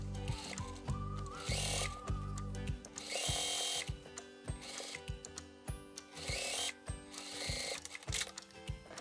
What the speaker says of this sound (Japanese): ピンで留めたらミシンでステッチをかけて留めていきます。